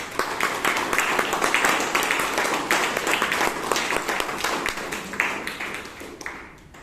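An audience at a Bangalore Toastmasters club meeting breaks into a loud round of applause, crisp overlapping claps from many people that swell and then taper off at the end.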